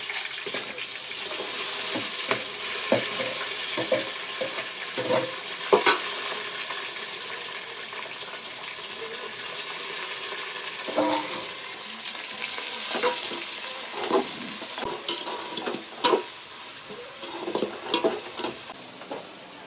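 Green chillies and onions fry in a pan for a fish curry, with a constant close sizzle and repeated scraping and clinking of a stirring spoon. The stirs grow busier toward the end, and no one speaks.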